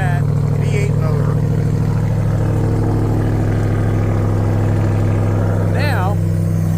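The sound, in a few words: Ram TRX supercharged Hellcat V8 engine running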